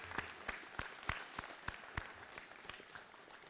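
Graduation ceremony audience clapping for parents and guardians, a sparse and fairly faint patter of separate claps with a loose rhythm and a few sharper hits standing out.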